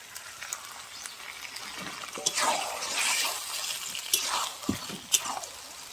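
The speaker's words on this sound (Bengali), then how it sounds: "এবার আমি মাংসটা কষানো মশলায় ঢেলে দেব" Marinated meat poured into fried masala in a pan, a close wet splash and sizzle swelling in the middle, followed by a few sharp clinks of utensils.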